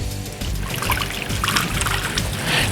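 Water poured out onto a layer of Titan super absorbent powder, a steady close trickling and splashing stream that runs unbroken for a few seconds.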